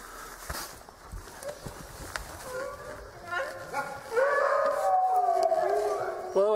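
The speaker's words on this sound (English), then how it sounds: "As you hear, the dogs want their food" Several dogs howl and whine outdoors, wanting their food, with the rising wavering howls growing louder and more layered toward the end, mixed with some rustling and footsteps.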